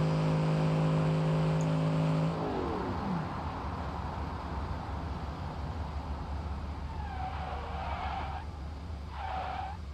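In the BeamNG.drive video game, a simulated muscle car's steady high engine tone drops away as it brakes hard from about 250 km/h, followed by a rushing roar of wind and road noise with short tire squeals near the end.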